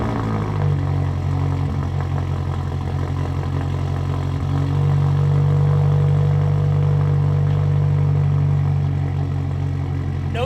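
A Subaru WRX fitted with an air-oil separator, running at a steady, loud idle with a deep rumble and a faint clatter, the tone shifting slightly about halfway through.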